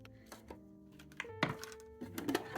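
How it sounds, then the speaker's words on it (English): A Sizzix Big Shot die cutting and embossing machine being handled, giving a few close knocks, clunks and short rattles of plastic and metal parts over a couple of seconds. "So we'll go ahead and get our die cutting and embossing machine out."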